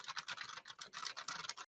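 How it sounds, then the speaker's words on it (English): Rapid clattering keystrokes on a computer keyboard, heard close through a Jabra Evolve2 85 headset microphone, come in quick uneven bursts with short gaps for under two seconds, and then cut off. "If you were typing on a keyboard, this is what it would sound like"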